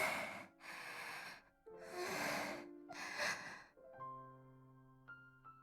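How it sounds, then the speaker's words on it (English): Heavy panting in a dark room from the Chaos;Child visual novel, four loud, breathy gasps in quick succession, close up, followed by a quiet, sustained tonal drone. "The only sound in the dark room was their panting."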